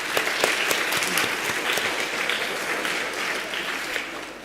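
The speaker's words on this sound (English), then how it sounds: "let's give her a round of applause." Audience applause at a National Science Week awards event, steady clapping from a sizeable crowd with some sharper individual claps early, gradually softening toward the end.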